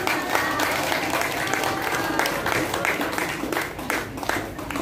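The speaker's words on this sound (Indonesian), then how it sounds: "Boleh tepuk tangan yang meriah sekali lagi untuk Bapak dan Ibu." Crowd at a BRI branch office farewell ceremony in Watampone applauds steadily, a lively, continuous clapping with a few voices mixed in.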